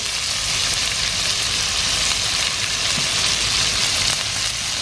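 Cheese-stuffed Juicy Lucy burgers fry in a pan at a wild camp in the Brecon Beacons, giving a loud, continuous, even sizzle that holds steady throughout with no talk over it.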